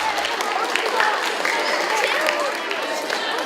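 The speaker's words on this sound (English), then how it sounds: "give yourself a big round of applause" A school DARE graduation audience of families and friends applauds fifth graders, a dense, steady wash of clapping with cheers and voices mixed in throughout.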